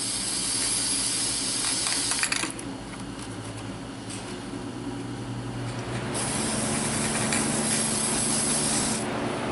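Aerosol gasket spray-tack adhesive hissing onto a water pump from a Chevy 5.7 350 engine, close steady spray bursts with a short pause in the middle before spraying resumes.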